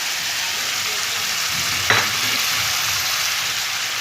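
Tomatoes with turmeric and chili frying in a pan for restaurant-style dal palak, a steady, even sizzle heard close up with one brief utensil knock midway and no talk.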